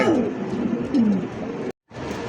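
A pair of Lahori pigeons gives low, throaty coos in a close, rolling series, with a brief silent gap before the cooing resumes.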